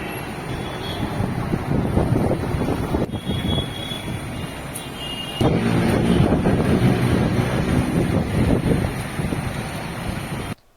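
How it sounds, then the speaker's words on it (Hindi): Strong wind drives dust and rain in a steady, loud roaring gust that swells stronger about halfway through, with no talk. "तेज हवाओं से उड़ी धूल के बीच कई इलाकों में बरसात बरसती हुई देखने मिली।"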